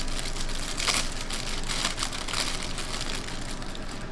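A plastic bag holding fresh dill crinkles and rustles steadily and close by, with a few sharper crackling bursts scattered through the handling.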